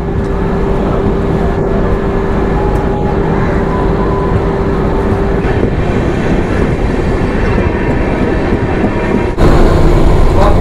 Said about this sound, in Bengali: ট্রেন আবার যে দিক দিয়ে যাচ্ছিল তার উল্টো দিকে যাচ্ছে এখন